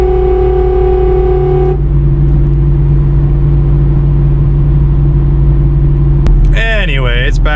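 Pontiac G8 GT with its old exhaust setup, droning steadily and loud while cruising on the road, with a sustained low rumble and a short rise in engine pitch near the end.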